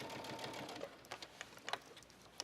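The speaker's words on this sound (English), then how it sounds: "We're stitching." A sewing machine stitches a shirt cuff with a fast, steady mechanical whir and ticking needle rhythm, close and continuous, ending in a few separate knocks as it slows.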